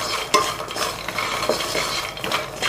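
Makhana lotus seeds are stirred in a pan with ghee and masala, giving a close, loud run of scraping spatula strokes in an uneven rhythm over a soft background sizzle.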